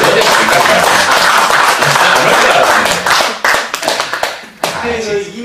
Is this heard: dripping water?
no